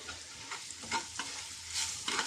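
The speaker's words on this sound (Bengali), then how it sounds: "আমার পেঁয়াজটা লালচে লালচে হয়ে গেছে আর এর মধ্যে একটু দিয়ে দেবো হলুদ তেলের মধ্যেই দিলাম হলুদটা" Onions browned in oil with turmeric added, frying and being stirred in a pan, with soft sizzling and a few scraping stirs across the short stretch, no voices.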